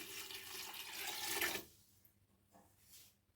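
Two cups of water gush and splash into a cooking pot of keema karela for about a second and a half, then stop, leaving faint drips and quiet handling.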